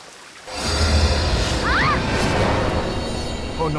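A waterfall roars with a dense, constant rush of falling water, loud and close once it swells in after a brief quieter start.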